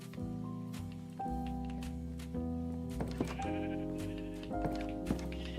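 Sheep bleat repeatedly in Minecraft inside a house, several overlapping calls in quick succession over a soft game background, fairly faint with no voices.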